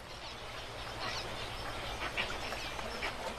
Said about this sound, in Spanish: Las garzas acuden en busca de su ración diaria de pescado.